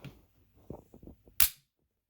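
A Springfield Hellcat pistol gives a single sharp, close dry-fire click after a few soft handling and mechanical sounds, then silence.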